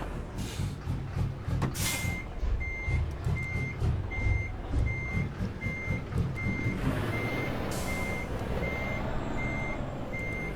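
Regular, evenly spaced reversing beeps from a semi truck backing into a spot among other trucks, loud and persistent over rumbling diesel engine noise and occasional air hiss.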